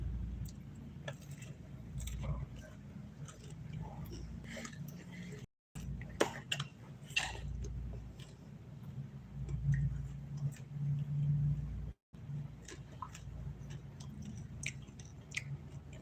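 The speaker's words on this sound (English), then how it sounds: "Watch me eat." Someone chews a slice of pizza up close: soft, wet, irregular mastication sounds with small clicks over a low background hum, interrupted by two brief cutouts.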